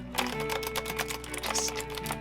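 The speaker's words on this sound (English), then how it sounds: "No longer could I be in the presence of my shabby, loud, knockoff gamer keyboard." Rapid, dense typing on a cheap, loud knockoff gamer keyboard, the clacky keystrokes running together continuously and close up with no talk.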